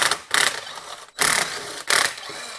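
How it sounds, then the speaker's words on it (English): An impact driver backs T40 bolts out of an Ariens snowblower, three sharp buzzing hammering bursts close by, each lasting under half a second with brief pauses between. "We're going to put them on an impact driver and take them out."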